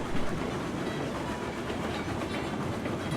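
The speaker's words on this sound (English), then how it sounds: "This is a rather lengthy train. 21 cars." A long 21-car freight train with a caboose rolls steadily along the track in the video game Railroads Online, giving a continuous dense rumble and rattle with no voices over it.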